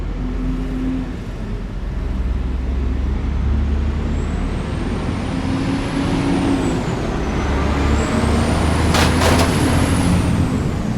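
A large delivery truck rumbles close by as it arrives, with a steady engine drone, a rising whine and short bursts of air-brake hiss near the end.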